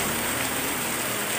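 Heavy rain falling at a house, a dense, steady hiss of downpour filling the whole short moment with no pauses.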